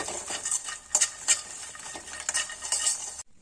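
Phool makhana (fox nuts) frying with salt, stirred briskly so the light puffs rattle and scrape against the pan in quick rhythmic bursts over a faint sizzle, close and without voices.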